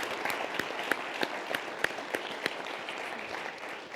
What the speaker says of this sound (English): A round of applause for Frank while he has to leave.